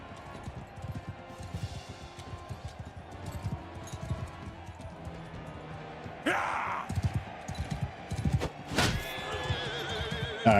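Horse neighing and clip-clopping hooves in a cavalry-only medieval knight battle video game, with rapid galloping rhythm and two sharp, loud whinnies near the end over continuous combat din.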